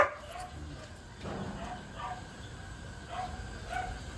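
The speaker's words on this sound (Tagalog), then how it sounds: "ang ingay ng aso." Small dog barks and yips repeatedly at a moderate distance, short sharp bursts recurring every second or so over a noisy room background.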